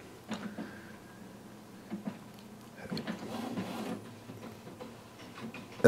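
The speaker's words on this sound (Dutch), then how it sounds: "we drukken op de knop zodat de printer kan uitlijnen en vervolgens het afdrukken kan beginnen." A Canon PIXMA iP8750 inkjet printer nearby whirs and clicks quietly, with intermittent mechanical shuffles and movements as it aligns and then starts printing.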